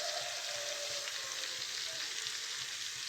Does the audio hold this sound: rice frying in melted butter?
yes